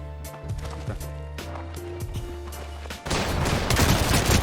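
Rapid gunfire from an Apex Legends ranked arena match, loud and continuous bursts with tonal game music underneath, ending in a dense, noisy volley.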